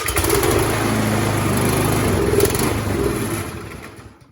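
A snow blower engine runs loud and close for a few seconds on starting fluid alone, with a rough steady drone that fades out as it dies.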